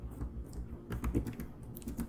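Keys clatter on a computer keyboard as code is typed into a Visual Studio Code editor, a quick uneven run of close, soft taps lasting about two seconds with no voice.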